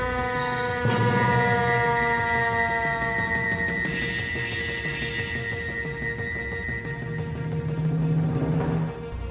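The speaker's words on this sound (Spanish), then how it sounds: "Un camión de bomberos se detuvo frente a la casa" A loud fire truck siren wails in rising and falling harmonic tones, sustained for several seconds with engine rumble underneath, close by as the truck stops in front of a house.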